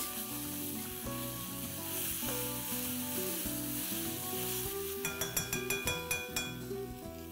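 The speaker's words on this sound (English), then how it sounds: "Let's add a teaspoon of garlic paste, a teaspoon of ginger paste and saute this for another minute." Garlic and ginger paste sizzles steadily in a hot pan, then a utensil clinks repeatedly against the pan as it is stirred, close up.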